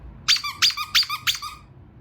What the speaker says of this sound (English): It goes squeak.